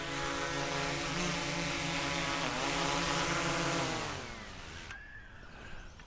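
A drone fitted with Master Airscrew stealth propellers hovers and comes down to land, a steady close propeller whine with wavering harmonic pitch that sags and fades as it touches down.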